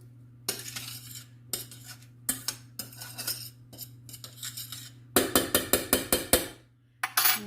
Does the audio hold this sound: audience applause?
no